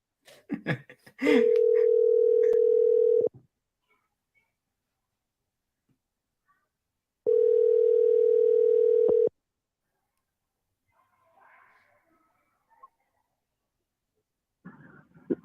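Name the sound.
telephone dial tone while calling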